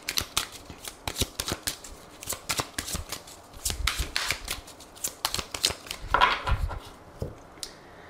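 Tarot cards being shuffled by hand, a rapid run of papery riffles and flicks repeating for several seconds, close and crisp with no voices.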